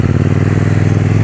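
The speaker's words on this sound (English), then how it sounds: "KTM 790 Duke test ride from Fowlers of Bristol." A KTM 790 Duke motorcycle engine runs steadily up close with a loud, throaty, even pulse, heard alone on a test ride from a dealership in Bristol.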